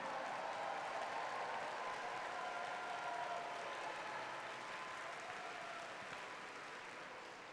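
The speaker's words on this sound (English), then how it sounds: "give me a round of applause for, in the blue shirts, our judges" A crowd at a robotics state championship opening ceremony applauds the judges, a steady wash of clapping from a large hall, fairly distant and slowly fading.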